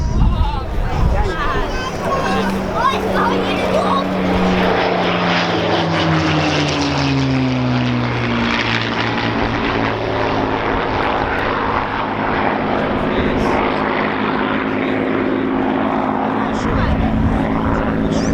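A P-51 Mustang propeller warplane drones loudly overhead at the Dunsfold Wings & Wheels 2014 air show, its engine note rising and falling steadily as it passes, with faint crowd chatter beneath.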